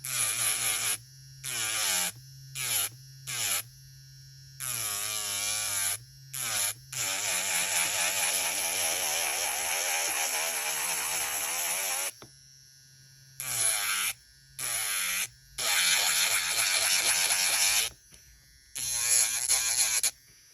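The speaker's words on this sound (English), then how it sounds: "I will be going up to 10 RPMs, as you can see, and I'm going to keep filing." KREDIOO electric nail drill filing nails at about 10 RPM setting, a high whining buzz that starts and stops in repeated short bursts with a longer steady run in the middle.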